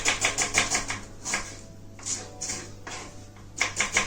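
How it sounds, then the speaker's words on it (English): A knife slicing an onion on a cutting board in quick bursts of crisp, close taps, a fast run at the start, scattered cuts in the middle and another quick run at the end. "cut them into slices"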